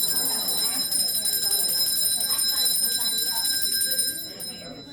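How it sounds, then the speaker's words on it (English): A dinner bell rings continuously with a steady, bright metallic tone outside Miss Mary Bobo's Restaurant in Lynchburg, Tennessee, steady murmur of a crowd of voices beneath, fading slightly at the end. "they should be ringing the bell here any minute now"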